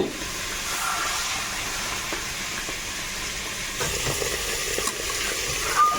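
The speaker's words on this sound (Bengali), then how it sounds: "এবার কচুতে জল দিয়ে দেবো ভালো করে ভেজে নিয়েছি" Water poured onto fried taro (kochu) in a hot pan, a steady broadband sizzle and hiss of steam lasting throughout, close and fairly loud, with faint stirring clatter.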